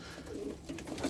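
Pigeon of a fancy German breed cooing nearby, a soft continuous low throaty coo lasting about a second with no talk over it.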